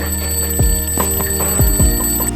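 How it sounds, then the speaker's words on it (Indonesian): Mobile phone alarm ringing alone, a bright repeating electronic tone pattern with steady high pitched notes and pulsing accents, fairly loud and close. "Suara alarm HP berbunyi"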